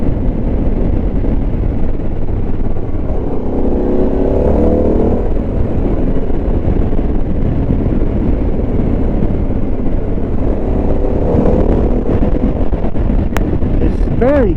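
A Harley-Davidson Pan America motorcycle rides along with a steady engine drone and heavy wind buffeting across the microphone throughout, while a rider talks over the noise.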